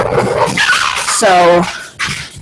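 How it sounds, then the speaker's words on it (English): Dogs bark and whimper in short bursts close by, mixed in with a person talking over them. "sorry, dogs are doing stuff."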